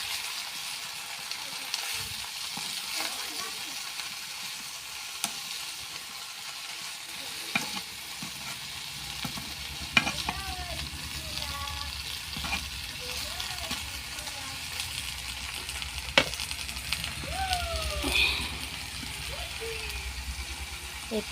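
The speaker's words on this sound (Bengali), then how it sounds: "নাড়াচাড়া করে দিই।" Onion flowers and greens frying in a pan, a continuous close sizzle with repeated scraping and knocking from stirring, and a voice talking intermittently over the cooking.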